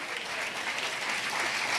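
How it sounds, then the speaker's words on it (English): Conference crowd at an awards ceremony applauding the organizing team, a dense, even roar of clapping that holds steady throughout the short burst. "give them a round of applause"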